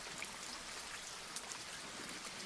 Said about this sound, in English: Only a slow rain, a quiet rain, a rain that seems to fall carefully